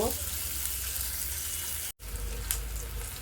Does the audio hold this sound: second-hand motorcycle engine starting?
no